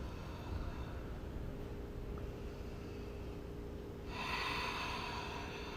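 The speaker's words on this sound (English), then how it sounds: "Deep breath in, deep breath out." Slow, deep breathing during a yoga stretch, heard as a faint, airy inhale with a soft hiss over quiet room noise. A stronger breath swells near the end.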